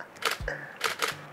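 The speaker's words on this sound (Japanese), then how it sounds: "いいシャッター音してんな、相変わらず。" A camera shutter fires several times in close succession during a food photo shoot, crisp mechanical clacks in quick pairs, near and fairly quiet.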